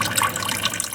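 Water trickles and splashes steadily in a homemade fountain built from glued wooden pieces, with a recycled bottle and bowl, a continuous close bubbling flow with no voices.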